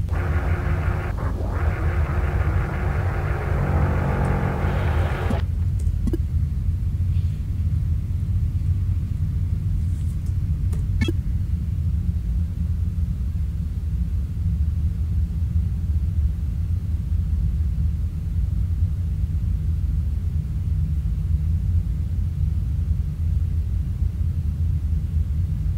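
A deep, steady rumble of a storm in the game Duskers fills the whole stretch, loud and low, with a brighter hiss fading out early and a few faint clicks.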